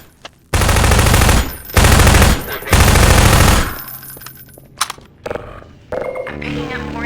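Automated turrets open fire on soldiers in Half-Life 2, several loud sustained bursts of rapid gunfire in quick succession, then quieter scattered shots and clatter.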